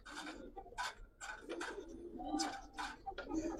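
Brown-necked Giribaz pigeons coo repeatedly at a pigeon sale, a close chorus of throaty rolling calls overlapping with faint higher chirps.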